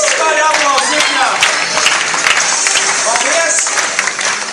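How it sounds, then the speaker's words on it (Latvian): An audience applauds a guitarist at a live event, loud continuous clapping and crowd noise filling the room while a presenter talks over it. "Skaļi aplausi viņā."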